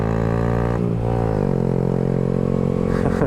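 A small motorcycle weighing around 300 pounds runs hard and close, its engine a loud, steady harmonic drone that shifts pitch as it climbs toward top speed, with no talking.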